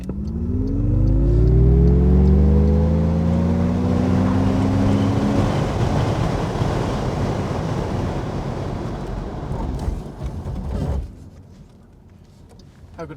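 An MG Cyberster GT electric roadster with 503bhp launches hard using launch control, a rising electric whine swelling into a loud rushing road and wind roar that eases off toward the end.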